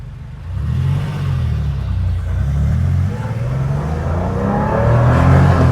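A 1988 Porsche 911 engine revs up through a 1-2 shift, a loud steady rumble that dips briefly at the gear change, then climbs again with no talk.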